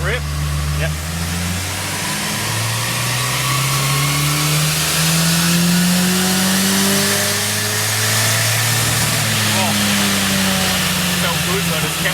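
Holden Gemini car engine revving at about 50% throttle on a dyno power run, loud climbing revs rising and falling in long sweeps, with people talking over the roar.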